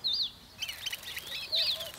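Small birds chirp and tweet nearby in quick, high, repeated calls, several voices overlapping.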